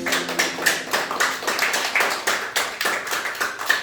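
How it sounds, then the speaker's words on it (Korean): A congregation at a church-planting worship service claps in a brisk, steady run of close, loud hand claps that carries on throughout without any talk. "우리 하나님께 영광 박수."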